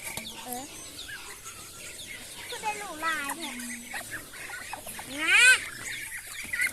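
Ducks cluck and chatter nearby in short rising and falling calls, with a louder squawk near the end.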